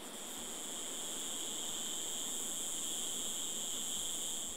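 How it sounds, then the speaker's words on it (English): Cicadas sing in the jungle of Madagascar's eastern mountains, a steady, dense, high-pitched drone that holds unbroken and fairly loud throughout, with no voices. "In the eastern mountains, the jungle echoes to the song of the cicadas."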